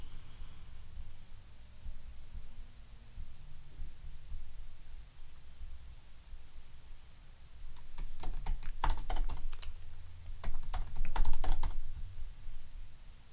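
Keys on a computer keyboard clatter in two short bursts of rapid typing, close and crisp over a quiet, faintly humming room, with a long pause of near silence before them.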